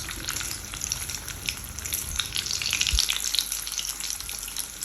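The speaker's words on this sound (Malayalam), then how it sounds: "പൊരിച്ചെടുക്കാം. ഇത് പെട്ടെന്ന് തന്നെയാവും." Potato cheese bonda with a bread coating sizzles steadily in hot oil, a dense, even crackle of frying with no pauses and no voices.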